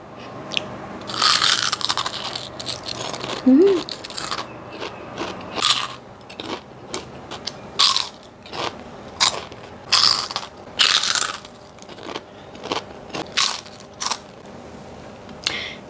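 Crunchy papaya chicharon being bitten and chewed up close: repeated loud, crackling crunches in irregular bursts, separated by short quieter pauses over about sixteen seconds.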